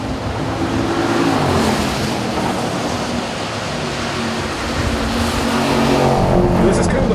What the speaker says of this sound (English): Oh my God, that sounds phenomenal. I mean, listen to that Hemi.